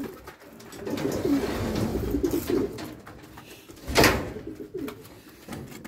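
Pigeons coo softly nearby in a loft, low throaty calls under faint rustling and a few thumps.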